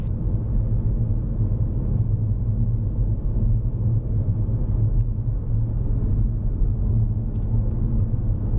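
Steady low engine rumble from a car rolling down a gentle hill in fourth gear, a continuous close hum with little change throughout.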